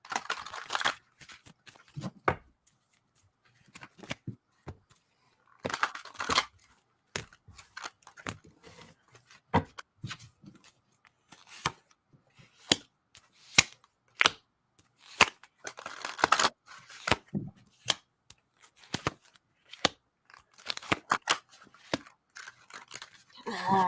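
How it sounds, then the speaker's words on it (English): Tarot cards being shuffled by hand, with repeated brisk riffling and slapping bursts in uneven rhythm, close and fairly loud, with brief pauses between shuffles. "These cards shuffle like shit."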